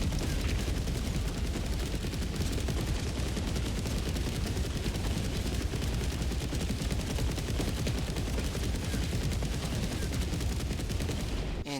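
Orbital Gatling Barrage blaster fire in the building game Trailmakers, a dense, unbroken roar of rapid-fire shots and impacts, loud and continuous throughout.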